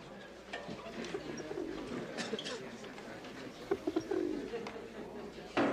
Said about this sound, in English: It's not a bird, Einstein. It's a pigeon.